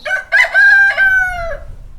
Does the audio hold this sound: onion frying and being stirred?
no